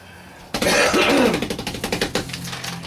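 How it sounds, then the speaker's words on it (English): A person coughing and clearing the throat after eating hot jerky: a loud burst of rough, harsh coughs close by, trailing into a series of shorter rhythmic hacks. "I got that cough. It's hitting."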